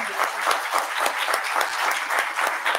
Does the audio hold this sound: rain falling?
no